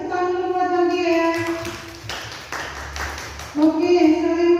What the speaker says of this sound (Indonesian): Kasih tepuk tangan dulu buat Wardia ya.